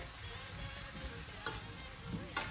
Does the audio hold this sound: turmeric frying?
yes